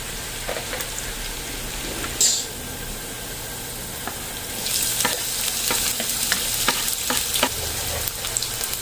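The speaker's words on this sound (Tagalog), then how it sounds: "Kailangan i-prito muna natin ng konti." Steady sizzling of garlic and onion frying in a pan, with scattered scraping and clinking from stirring, louder in the second half.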